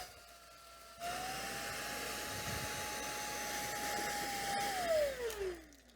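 An Aspiron cordless vacuum cleaner switches on and runs with a steady high whine and airy rush over a floor with cereal on it, then winds down as it shuts off near the end.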